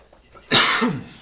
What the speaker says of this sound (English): I'm going to cough on camera real quick.